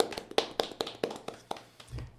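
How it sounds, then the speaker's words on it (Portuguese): Light, scattered hand claps from a few podcast hosts welcoming their guests, about a dozen separate claps in quick succession, fairly faint and close. "Uma salva de palmas."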